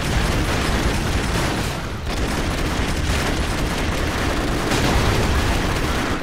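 Continuous loud explosions and gunfire in the video game Broforce form a dense, roaring barrage with brief dips, with no talking.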